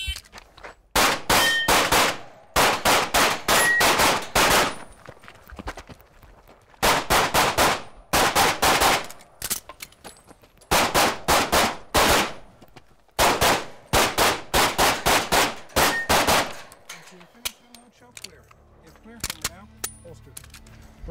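Rapid bursts of shots ring out at a shooting competition, sharp metallic cracks fired in quick clusters of five to ten with short pauses between strings, loud and close, then fading to quiet range noise at the end.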